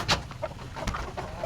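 Chickens cluck and chatter in short, scattered calls nearby, with a few sharper squawks over a soft background.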